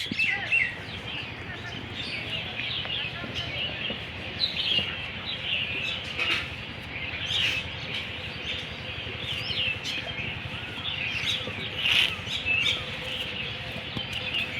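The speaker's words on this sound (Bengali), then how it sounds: "দেখেন সবাই খেজুরের গাছের উপরে পাখি এসে কিচিরমিচির করছে" Small birds chirping up in a date palm tree in the morning, a busy run of high twittering calls from nearby over faint background rumble.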